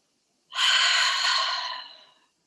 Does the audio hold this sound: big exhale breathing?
yes